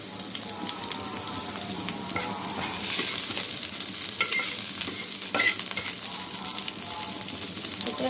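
Small black nigella seeds crackle and sizzle steadily in hot oil in a wok-style pan, a continuous bright fizz with faint scraping from stirring and no speech.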